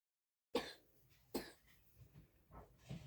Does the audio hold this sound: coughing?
yes